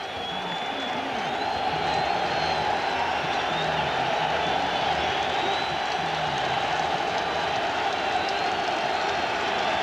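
A steady, loud wash of stadium crowd noise fills a 1993 NFL football game between the Miami Dolphins and New England Patriots, a continuous roar with no distinct breaks.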